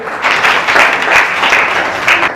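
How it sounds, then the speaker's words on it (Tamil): Applause fills the hall at a Tamil literary gathering in Hyderabad, as a crowd claps loudly and continuously, a dense, even wash of hand claps with small swells. "இதே மாதிரி தான் சுற்றி நின்றவங்க எல்லாரும் கைத்தட்டினாங்க"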